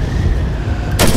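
Heavy battlefield gunfire and artillery in the World War II shooter Red Orchestra 2, a loud, dense rumbling roar with a sharp blast cutting in at the end.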